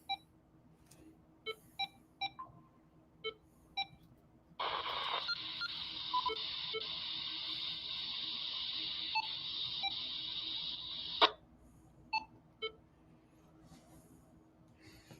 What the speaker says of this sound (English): You're actually probably hearing the APRS beacon.